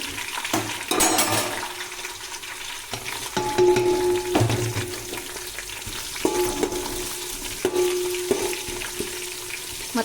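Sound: onions and green chillies frying in pan for soya biryani

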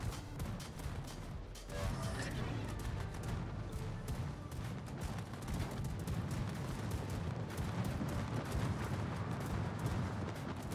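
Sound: battlecruiser secondary guns firing, video game World of Warships

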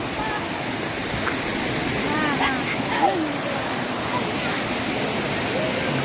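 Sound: flowing waterfall at Seethar Kund, Kollengode

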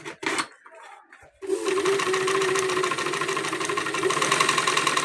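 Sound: sewing machine motor running fast

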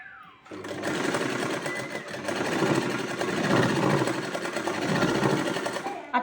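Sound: sewing machine stitching fabric for a rabbit cap

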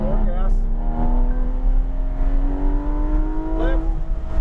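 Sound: Porsche 911 GT3 RS accelerating on race track

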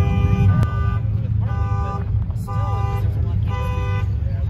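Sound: Jeep car alarm sounding

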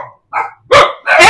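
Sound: dogs barking

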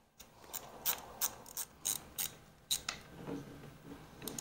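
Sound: screws being tightened back into rotary scissor

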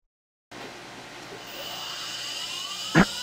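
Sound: 1/8 inch ball mill milling titanium dice pips

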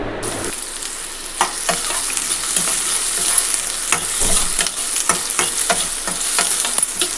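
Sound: onions and green chillies frying and stirred in hot oil

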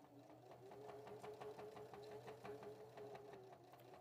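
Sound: sewing machine stitching along fabric edge

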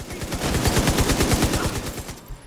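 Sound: gunfire in the video game The Division 2

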